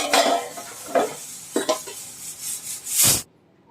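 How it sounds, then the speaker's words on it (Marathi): A lid set back onto a cooking pot in a home kitchen while a fasting-style pithla cooks: a few close clinks and scrapes of cookware, then one louder metallic clatter near the end, with no talking. "आता आपण पुन्हा थोडं झाकण ठेवते"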